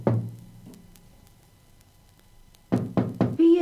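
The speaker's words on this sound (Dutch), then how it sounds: "Wie klopt er aan ons deurtje?" Knocking on a door in a Dutch audio fairy tale about the wolf and the seven little goats: a lone knock at the start, then a quick run of three firm, close knocks, with a voice entering at the very end.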